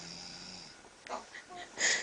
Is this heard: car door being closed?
no